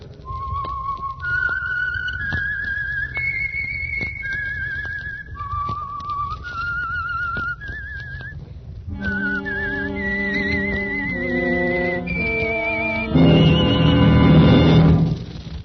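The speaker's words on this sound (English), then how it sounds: "That whistle is your signal," A lone whistler carries a slow, eerie tune note by note, the theme of the radio drama The Whistler, later joined by a swelling orchestral passage that rises loudly near the end.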